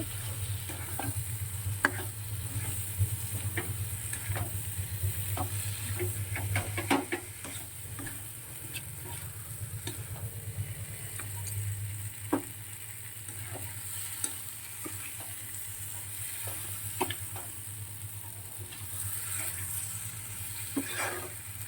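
Prawn curry masala with potatoes sizzling in a pan, stirred with a steady run of spatula scrapes and clicks over a constant frying hiss, close and continuous without any talk.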